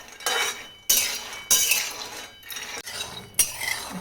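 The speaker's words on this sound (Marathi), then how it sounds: "चांगले बारीक गॅसवर खरपूस भाजायचे." Peanuts are stirred while dry-roasting in a pan over a low gas flame, giving several close bursts of rattling and scraping separated by short pauses.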